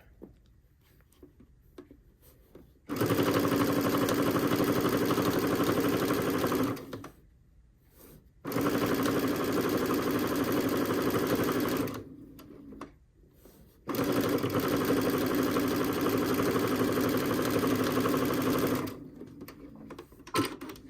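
A sewing machine stitches quilt blocks in three sustained runs of steady, loud, even whirring, separated by short quiet pauses, with no talk.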